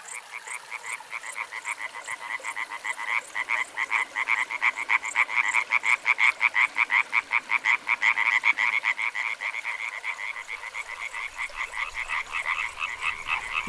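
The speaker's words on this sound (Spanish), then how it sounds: "ahí en esos charcos y humedales las ranas croan" Bright green European tree frogs with black side stripes croak in Chernobyl wetland pools, a fast rhythmic chorus of rapid pulsed calls that swells loud mid-clip and then eases, with no voices.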